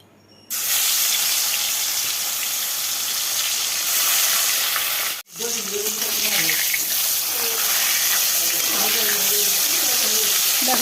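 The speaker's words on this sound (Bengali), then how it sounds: "মাছগুলো তেলে দেওয়া মাত্রই দেখো কেমন কুকড়ে যাচ্ছে" Fresh koi fish sizzle loudly in hot oil in a kadai, the frying starting abruptly with a dense hiss that briefly drops out and resumes while faint talk sits underneath.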